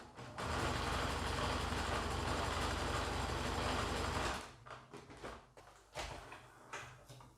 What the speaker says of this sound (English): sew across that short end with my little zigzag stitch